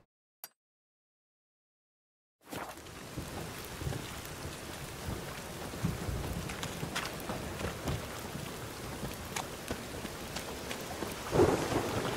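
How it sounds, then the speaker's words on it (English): Rain and thunder in The Witcher 3 around Novigrad: after a brief silence, a steady rain hiss starts up with low rumbling thunder rolling beneath it, swelling near the end. "Got a rainy morning here in Novigrad."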